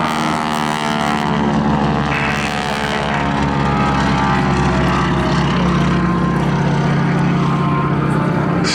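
A wingwalker display aircraft crosses over the crowd at the Southport Airshow, its propeller engine producing a loud, continuous, droning roar that holds steady throughout.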